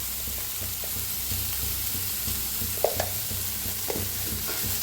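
Turmeric stirred into masala frying in a pan with curry leaves, producing a steady sizzle under repeated soft scraping strokes and a few sharper spoon clicks near the middle.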